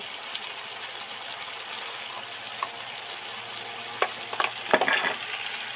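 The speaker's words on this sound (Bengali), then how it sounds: "এইবার ভালো করে ধরে ধরে আরো 5 মিনিট ভাজতে থাকবো" Whole spices with turmeric powder fry in a pan for a mutton curry, giving a steady soft sizzle with a few stirring scrapes and clatters near the end.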